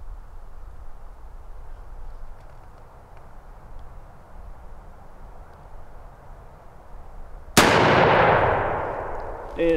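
A Winchester SX3 20-gauge with a Briley 570 constriction choke fires one Federal TSS #7 turkey load at 20 yards: a single loud, sharp blast with a ringing tail, bursting out of quiet outdoor ambience near the end.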